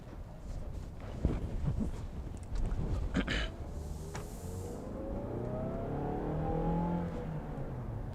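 A 2017 Mazda3 Grand Touring with a 6-speed SkyActiv manual transmission accelerates on a drive, heard from inside the cabin as a steady engine hum rising in pitch with road noise and a few knocks.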